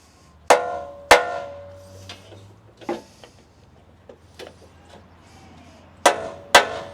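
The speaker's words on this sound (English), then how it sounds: "I'm banging on this with a hammer." Hammer blows ring out on a metal bracket, several loud, close strikes spaced irregularly, with lighter taps in between and a faint hum underneath.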